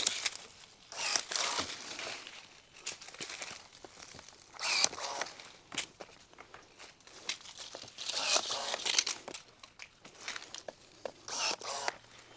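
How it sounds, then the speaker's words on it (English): Pruning a low cordon espalier fig tree: branches are cut back with repeated snips, crunches and rustling leaves, close and irregular, and no one speaks. "let's go ahead and cut these branches that are out here"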